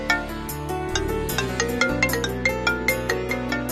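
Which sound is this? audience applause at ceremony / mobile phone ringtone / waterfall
mobile phone ringtone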